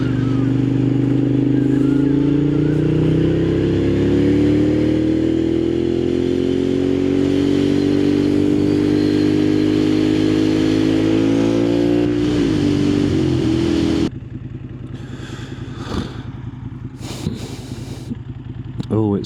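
A Moto Guzzi Griso motorcycle with loud pipes revs up close, its deep exhaust note climbing and holding before dropping away sharply, then settling into a lower idle with some mechanical clatter.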